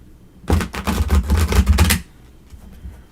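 Slippery tarot cards are shuffled close by in a single quick riffle, a dense flurry of crisp clicking and fluttering lasting over a second before falling quiet.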